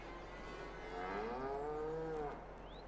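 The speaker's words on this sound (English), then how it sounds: "Looks like the baby calves are up eating more than the cows." A cow in Farming Simulator 22 lets out one long, drawn-out moo, close and fairly clear over a quiet low hum, with a faint higher cry near the end.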